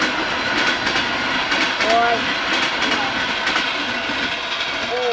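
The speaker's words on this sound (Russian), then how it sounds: "Так, первый поезд мы пропустили." A train rumbles past close by with rhythmic clattering wheels and a couple of brief squeals; a voice gives a short exclamation over the noise.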